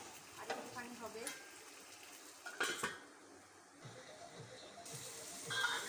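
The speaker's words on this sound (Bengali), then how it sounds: "আরেকবার ঢাকাটা খুললাম, আর একটু নেড়ে নিলাম, যদি লেগে যায় তার জন্য।" Metal pot lid lifted and a dish of fish roe stirred in a pan, with a few clinks and scraping strokes over a soft background sizzle, fairly quiet and close.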